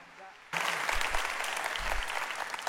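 A church congregation at a Passover service bursts into applause, a sudden dense wash of clapping that starts abruptly and holds steady and fairly loud to the end.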